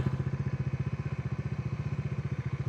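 A Bajaj Dominar 400 motorcycle idles close by while being parked near a boathouse, its single-cylinder engine giving off a steady, rapid, even thumping pulse throughout.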